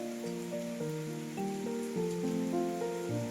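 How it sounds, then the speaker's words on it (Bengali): Steady hiss of heavy rain with a simple melodic tune of sustained tones playing over it. "এইটা দেখলে আপনারা নিশ্চয়ই বুঝতে পারবেন যে কত বৃষ্টি হচ্ছে"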